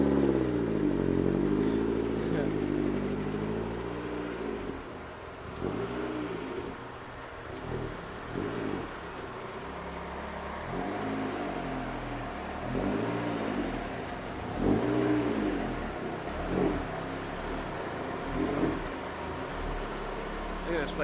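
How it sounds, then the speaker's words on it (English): Built turbocharged Mazda Miata engine idling and revving in a dyno shop as the car is backed slowly onto the rollers, low uneven throttle blips rising and falling close by, with people talking intermittently. "There we go, pulling the car in."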